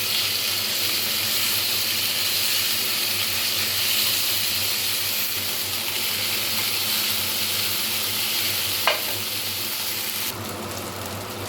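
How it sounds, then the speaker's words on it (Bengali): Whole cumin seeds fry in hot oil with a continuous hissing sizzle that stays fairly loud and even throughout, broken by one brief clink near the end. "তেলটা যখন গরম হয়ে যাবে তখন দিয়ে দেব গোটা জিরে।"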